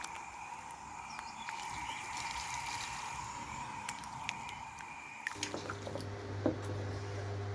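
Tomatoes being washed in water for homemade passata, with soft steady splashing, drips and sloshing, nearby and fairly quiet, a low hum entering near the end.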